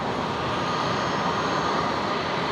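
Qantas airliner from Christchurch touching down on runway 01 at Brisbane International Airport, a loud steady jet roar filling the air without pause.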